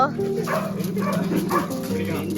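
A puppy yips and barks in short bursts while a person talks over it nearby.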